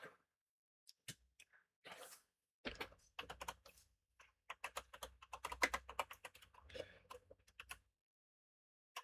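Someone types on a computer keyboard. Quiet, close key clicks come in irregular bursts, with pauses between them and a denser run of taps in the middle.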